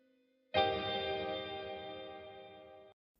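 A sustained electric guitar chord through a reverb pedal rings out with a wide, reverberant wash, holding steady and then cutting off after a couple of seconds.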